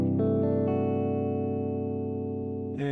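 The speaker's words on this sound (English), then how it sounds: "It's a C6-9 with a sharp 11. And it sounds like this." A C6/9 sharp 11 jazz chord on guitar, built up note by note and left ringing, full and sustained with an effected, slightly distorted tone, then a fresh strum at the end.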